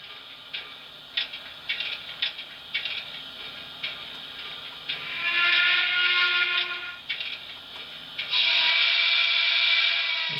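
A Broadway Limited C&O J3a 4-8-4 model steam locomotive with Paragon 3 sound gives a series of short whistle toots, then two longer sustained blasts of the steam whistle, close and loud.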